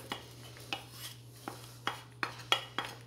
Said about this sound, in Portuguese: Agora aqui eu vou misturar a cenoura,